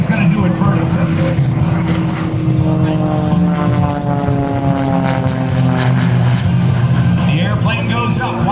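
Jan Collmer's aerobatic propeller airplane roars loudly at an airshow, its engine tone rising and shifting in pitch as it climbs through a vertical roll, with a commentator talking over it throughout.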